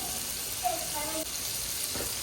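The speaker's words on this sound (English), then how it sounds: "Just hear that sizzle." Steady frying sizzle of onions in olive oil in a hot pan, a dense crackling hiss that runs throughout with a brief stir partway through.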